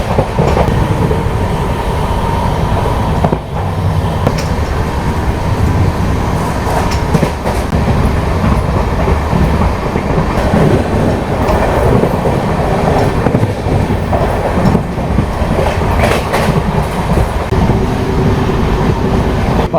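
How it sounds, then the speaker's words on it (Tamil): An express train on the Tirunelveli to Mangaluru route rumbles steadily past at high speed, a dense, loud roar of wheels and rail noise that barely changes over the whole stretch, with faint clacking. "நல்லா ஒரு ஹை ஸ்பீடில் தான் வண்டி வந்து போயிட்டு இருக்குது"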